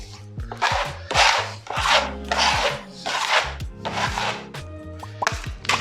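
Easy-fill wall filler being rubbed down with sandpaper, giving loud, close, rhythmic rasping strokes roughly every second, alone with no talking.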